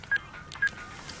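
A telephone dials a call with two short, clear keypad tones in quick succession against a quiet background.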